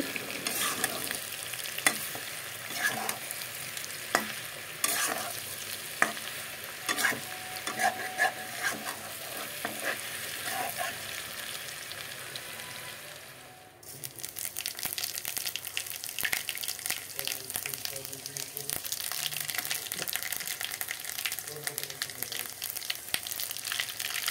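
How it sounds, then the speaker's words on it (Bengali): Vegetables such as pointed gourd, spiny gourd and eggplant fry in oil in a kadai, a soft steady sizzle with repeated scraping and stirring clicks, quiet and close, shifting to a gentler hiss partway through. "আরও কিছু সময় ভেজে নেব, তারপর একটা পাত্রতে নামিয়ে নেব।"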